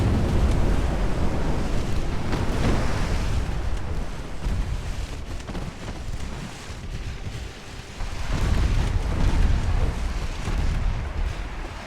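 Torpedo blasts in the naval game Ultimate Admiral: Dreadnoughts come as a loud, continuous, rumbling roar over sea-like wash, swelling in heavy bursts partway through and again later.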